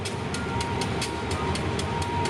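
A passenger train rolls steadily past in Thailand, a continuous rumble with a rhythmic clack of wheels over rail joints repeating every half second or so.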